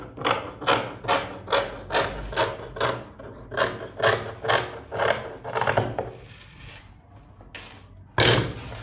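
Scissors cut through fabric for a camp collar shirt in a quick run of rhythmic crisp snips, close and fairly quiet, then stop briefly before one final louder snip.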